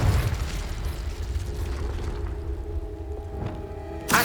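A Confringo fire-spell explosion in the video game Hogwarts Legacy: a heavy boom opens the clip and rumbles away, followed by faint debris and a sharp second burst right at the end.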